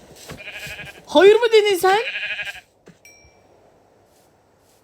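Sheep in the video game Minecraft bleat in a loud, wavering run of several quick calls, close up and overlapping someone talking before and after.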